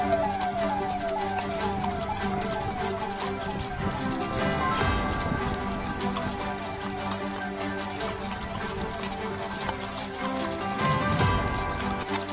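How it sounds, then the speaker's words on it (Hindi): Around a dozen mounted police horses patrol a city in Bihar, their hooves clip-clopping steadily on the street while a wailing siren sweeps in the background. "पूरे शहर में लगभग 1 दर्जन घुड़सवार पुलिस बलों ने की गश्ती।"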